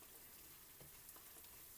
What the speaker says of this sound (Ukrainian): Додаю чесночок і ще буду смажити